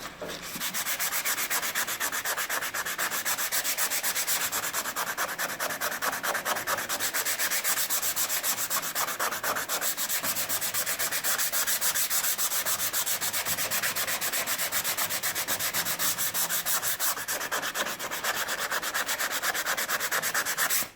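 Steady, continuous hand sanding of body filler on a Lancia Prisma HF Integrale car body, with rapid back-and-forth rasping strokes, close and loud, with no voices.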